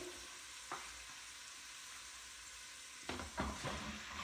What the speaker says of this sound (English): now we're going to saute this until the meat is brown